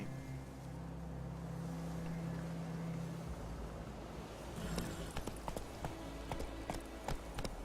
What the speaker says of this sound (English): Luckily, Geralt can always count on his horse, Roach, to help him on his travels. Press X to call him